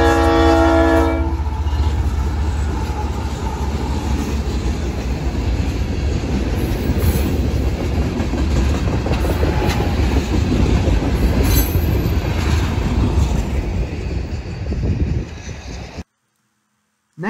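A CSX freight train, O823, passes close and loud near County Line Road north of Port Manatee, with a horn blast at the start, then continuous rumbling and rhythmic clatter of wheels and cars before the sound cuts off abruptly.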